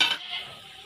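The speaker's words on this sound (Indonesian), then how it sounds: "digoreng dengan api yang kecil" Gulai jangek ingredients stir-frying over a low flame, a soft crackling sizzle with a brief clatter of utensil against the pan at the start, then a steady quiet hiss alone.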